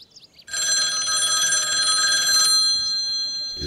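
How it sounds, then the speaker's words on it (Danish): A telephone bell rings loudly and continuously for about two seconds, starting abruptly and cutting off, alone with no voices. "Men pludselig ringede telefonen."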